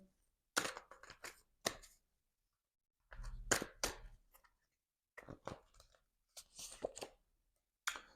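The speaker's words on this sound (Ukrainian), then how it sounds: "Перетасовую карти." Several bursts of crisp shuffling and riffling of tarot cards, close up, separated by short pauses of silence.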